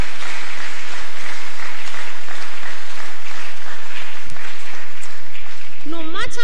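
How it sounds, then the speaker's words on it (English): Audience at a 2018 registry summit applauds a professor, a dense sustained wash of clapping from many hands that stays loud for several seconds, with a voice cutting in near the end. "Please clap for this gentleman."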